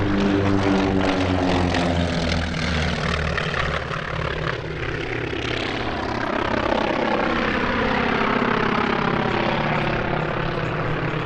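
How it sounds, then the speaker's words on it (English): Two T-28 Trojan propeller aircraft flying past at EAA AirVenture Oshkosh, a loud, close, throbbing radial-engine drone with pulsing harmonics that shifts in pitch as they pass. "Here are two T-28 Trojans from the Trojan Flyers."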